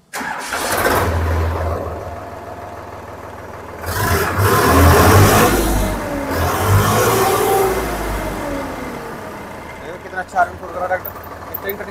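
A 45 HP 2023-model tractor diesel engine cranks and catches, then revs up and settles into a rumbling idle, loud and close, with a brief clatter near the end.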